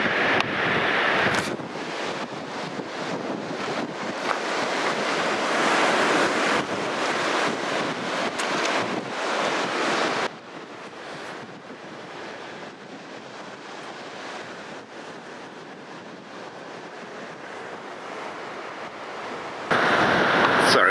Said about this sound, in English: It's super windy over here, so I hope this audio comes out.